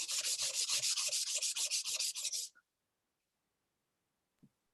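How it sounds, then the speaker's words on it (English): A knife is sharpened on a whetstone just above the edge: about a dozen quick, even rubbing strokes close up, then an abrupt stop into near silence with one faint click. "So this is how I sharpen that just above the edge there"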